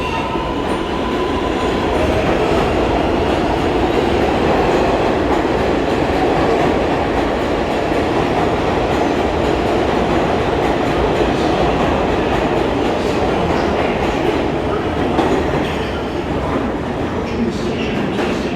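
New York City subway 7 train at Times Square–42nd Street station, a loud continuous rumble of rail cars with steady rolling noise and faint wheel clatter filling the platform throughout.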